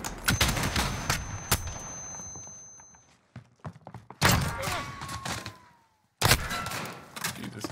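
Sharp pistol shots in the game MWII Gunfight, several spaced cracks with quiet gaps between bursts and a final cluster near the end, heard alone without talk.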